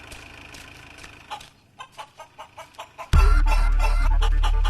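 A free-range country chicken clucks in a short series of rhythmic calls, fairly close, before a loud engine-like rumble abruptly takes over for the rest.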